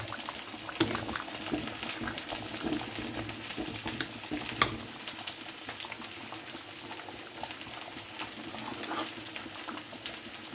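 A pot of spinach and lentils bubbles and simmers steadily with soft popping and crackling, close by and continuous, with no voices.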